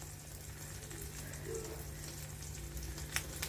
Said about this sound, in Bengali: এখানে অমলেটটা ভেজে নিচ্ছি